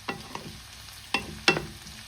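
Garlic and spring onions stirred with pork belly in a hot pan: a soft background sizzle broken by a few sharp scraping clatters of the utensil against the pan, quiet and close.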